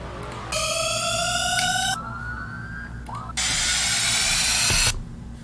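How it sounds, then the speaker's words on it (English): Electronic music drop built from stacked synth risers: bright, loud sweeping tones that climb in bursts, cutting off abruptly between layers, with no voice present. "And then just risers, risers, and more risers."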